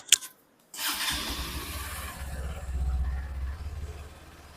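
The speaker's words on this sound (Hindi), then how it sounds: "सो एक बार बाइक को स्टार्ट करते हैं।" A Hero motorcycle engine cranks and catches after a short pause, then settles into a steady, throbbing low idle close by.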